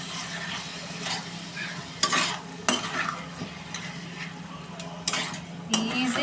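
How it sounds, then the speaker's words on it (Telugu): Spice paste being mixed into chicken, a soft steady wet stirring with a few louder clanks of a utensil against the pan, close and under no speech. "ఇలా మొత్తం ఈ పేస్ట్ అంతా చికెన్కి పట్టేలాగా కలపండి."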